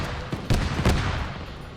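Close shots crack out from a military shooter game at an airfield, with a few sharp reports standing out over a steady rumbling background.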